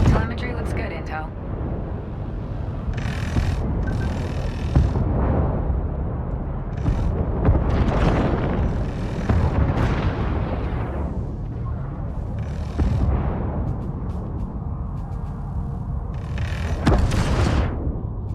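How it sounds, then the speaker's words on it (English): Hull defense guns of the mothership firing in the Homeworld 3 video game, heavy booming volleys and bursts spaced irregularly beneath a voice talking throughout. "Hull defense guns are active and engaging targets."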